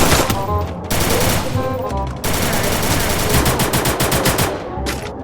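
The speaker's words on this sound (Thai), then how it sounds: "เพื่อนยิงไม่โดนได้ไงวะ" Rapid automatic gunfire from the Free Fire video game, sustained bursts of machine-gun shots with brief pauses, loud and dense throughout.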